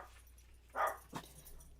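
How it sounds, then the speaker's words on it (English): Dogs give a brief bark followed by a short whimpering yelp, fairly faint, over a quiet indoor background with no talking. "Oh, these dogs are so triggered."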